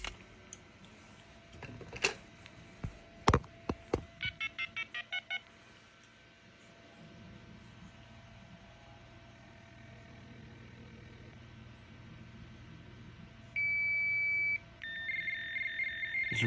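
Quiet background hum with a few clicks, then a rapid string of electronic dialing tones from a Radionics D2071 fire alarm communicator, followed by faint warbling two-tone Radionics BFSK data signals toward the end.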